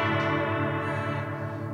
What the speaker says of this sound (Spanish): Es una reverb que produce ciertas modulaciones.